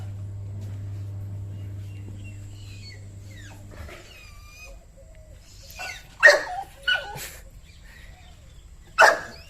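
A dog at home, a new arrival to the household, gives a few sharp barks and yips after a quiet stretch with a low hum, the barks close and fairly loud in two bursts near the end.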